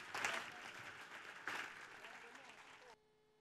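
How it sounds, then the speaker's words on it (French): A church congregation claps in praise of Jesus Christ, sustained applause with a swell of voices, surging again midway before cutting off abruptly into near silence. "Acclamons Jésus-Christ. Clap offering for Jesus Christ."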